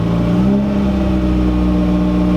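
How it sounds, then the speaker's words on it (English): A car engine given a little gas, a loud, close, steady mid-pitched drone that holds level with no clear rise. "I gave it a little bit of gas, I got nothing."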